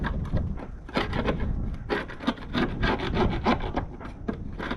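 Continuous rough scraping of sanding on a wooden boat deck, loud and close, with rapid uneven back-and-forth strokes running throughout and no speech.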